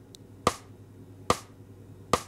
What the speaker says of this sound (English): So if you have a metronome, you can set it to 72 and it'll sound like this.